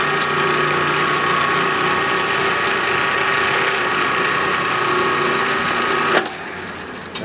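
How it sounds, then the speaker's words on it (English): A steady mechanical whine of a PM-940 milling machine drilling 304 stainless steel, running continuously with a constant tone, ending with an abrupt clunk near the end. "Go ahead and put a little center"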